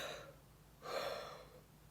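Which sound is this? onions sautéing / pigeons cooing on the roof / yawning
yawning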